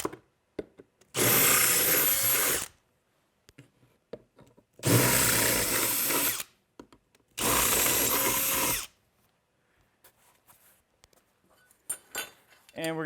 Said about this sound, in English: Okay, so I'm just going to re-drill these to make them bigger.